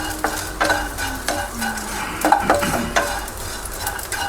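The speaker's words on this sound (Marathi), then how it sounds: "एकदम लाह्या व्हायला लागले, फुटला सगळं." Pieces of edible gum (dink) puff up while roasting in ghee in a pan for winter laddu. Close spatula scrapes and stirring strokes recur over a steady frying sizzle.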